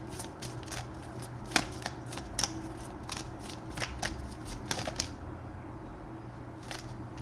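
Tarot cards being shuffled by hand during a reading, a run of crisp riffling and flicking bursts at irregular intervals, close and fairly quiet, with a low hum behind and no talking.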